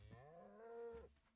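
A single cow moos in the block-building game Minecraft, a clear, drawn-out low call lasting about a second, close and alone in quiet surroundings.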